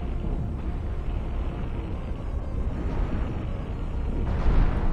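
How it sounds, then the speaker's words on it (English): Ships blow up in the space combat game Cosmoteer, a continuous loud rumble of overlapping explosions that swells toward the end, with no talking. "I guess stuff just blows up."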